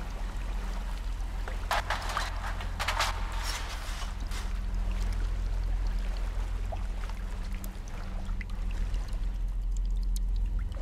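Steady flowing water in the Sons of the Forest video game, a continuous rushing wash with splashy bursts early on, loud and unbroken for the whole stretch with no talking over it.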